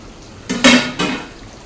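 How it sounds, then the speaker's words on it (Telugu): A metal lid comes off a pot of chicken curry in thick gravy on the stove: a short clatter, then a louder clank and a softer second knock, close by with no talking. "ఒకసారి అయితే తీసి మూత తీసి చూద్దామండి"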